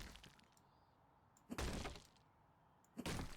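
A wall is knocked out in the video game House Flipper 2: two loud crashing smashes of breaking plaster, roughly a second and a half apart, each with a sharp impact and crumbling tail, between quiet gaps.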